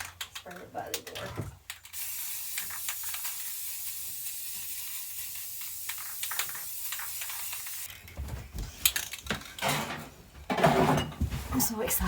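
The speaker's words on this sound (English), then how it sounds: "spray it by the door" A steady hissing spray from a spray can onto a wooden sign runs for several seconds, followed by rattling and clicks, with a brief burst of spraying again near the end.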